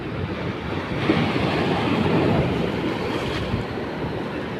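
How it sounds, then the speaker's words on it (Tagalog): Rough ocean surf pounds against shoreline rocks in a continuous, heavy roar, swelling slightly midway, with wind buffeting the microphone and no talk. "Nagalit na galit ang alon, no? Galit na galit sa alon. Nasa bato."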